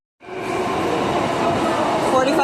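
A Vancouver SkyTrain at a station platform during a winter snowstorm gives a steady, loud rumbling roar that starts suddenly and holds, with voices mixed in beneath it.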